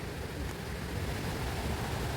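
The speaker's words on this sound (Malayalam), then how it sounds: "തൊമ്മൻകുത്ത് വെള്ളച്ചാട്ടം അല്ലേ?" Thommankuthu waterfall roars as a steady, broadband rush of falling water, constant and moderately loud across the whole moment with no voices over it.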